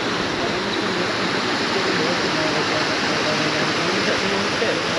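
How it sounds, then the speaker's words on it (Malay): A waterfall at Janda Baik pours fast-flowing water in a loud, steady, unbroken rush that fills the whole scene at close range. "kita tengah ni air terjun cantik juga dekat Janda Baik ni"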